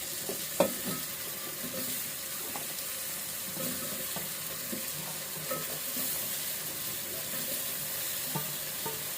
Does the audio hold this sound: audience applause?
no